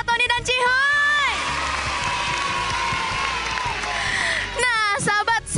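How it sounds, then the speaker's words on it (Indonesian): A school audience of children at SDN Tanjung Barat 03 in Jakarta applauds and cheers loudly, with high shouting voices at the start and end around a sustained crowd roar. "Coba dong kasih tepuk tangan lagi buat Kak Tony dan Cihuy"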